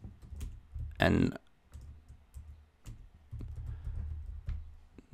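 Typing on a computer keyboard during a login attack demonstration, heard as faint scattered key clicks mixed with a brief louder burst and low room noise, with a voice speaking briefly.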